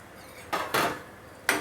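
Crushed dry fruits dropped into hot ghee in a pan for sabudana kheer, giving three short clattering bursts close by, with no talk.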